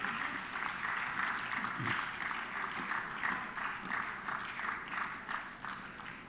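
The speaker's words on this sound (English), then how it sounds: "Please give a huge round of applause." Sustained applause fills an audience at a military literature festival session near Sukhna Lake in Chandigarh, steady dense clapping holding at an even level from start to finish.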